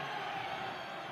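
A stadium crowd at an El Paso Locomotive versus Hartford Athletic soccer match jeers the referee after a no-call, a brief, steady, dense wash of mass voices with no clear breaks.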